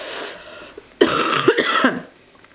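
A woman at home coughs up close, one harsh cough burst followed by a cluster of three or four rough coughs in quick succession, then quiet.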